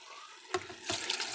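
Homemade beef broth poured from a container into an Instant Pot while making keto cabbage soup, a close liquid splash beginning midway and continuing as a steady pouring gush.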